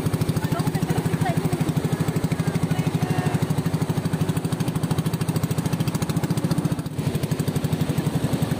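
A small engine, likely a motorcycle, runs steadily near Wawa Dam in Montalban, Rodriguez, Rizal with an even, rapid idle-like chug that stays loud and constant throughout.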